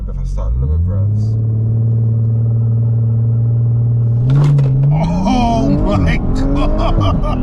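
A tuned 700 bhp twin-turbo Audi RS4 Stage 3 launches hard, its deep engine drone rising in pitch before a loud surge of acceleration, with excited shouting from inside the car over the roar.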